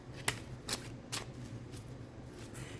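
Tarot cards are shuffled and drawn in a quiet room, giving three soft, quick riffling flicks spaced about half a second apart over a faint background hum.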